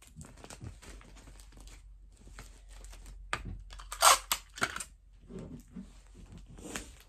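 Tape being crinkled and pressed down by hand gives soft, scattered crackles and rustles with a brief louder crinkle in the middle, close and quiet.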